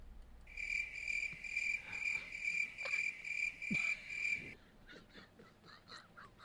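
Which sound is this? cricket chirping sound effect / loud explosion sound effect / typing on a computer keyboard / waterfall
cricket chirping sound effect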